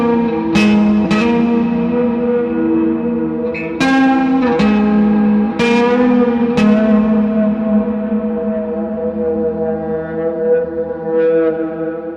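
Audrey II feedback synth, a small Daisy Seed-based instrument, ringing out sustained droning tones with its body parameter modulated, struck by sharp attacks that bloom into long reverberant tails, loud and alone.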